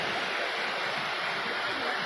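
Water released from Jaswant Sagar dam rushes through a cut in the hills, giving a steady, loud broadband roar of flowing water with no break and no voices.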